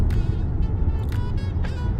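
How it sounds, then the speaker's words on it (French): A Genesis G330 with a naturally aspirated engine hums low and steady from inside the car, a deep continuous drone with slight swells, no talking. "moteur Atmo, très belle sonorité, vous entendez?"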